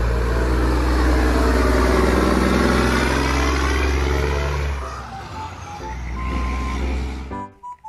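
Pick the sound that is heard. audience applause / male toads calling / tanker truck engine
tanker truck engine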